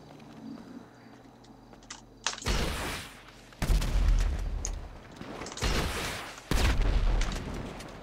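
Rocket launcher blasts in GTA V, three or four heavy booming explosions in quick succession with deep low-end rumble, preceded by quieter clicking game sounds.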